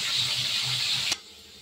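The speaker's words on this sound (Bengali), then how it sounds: "এবার আলুগুলো ভাজা হবে।" Potatoes fry in hot oil with turmeric and spices for a pomfret curry, giving a loud, even hiss that cuts off sharply after about a second, leaving a quiet background.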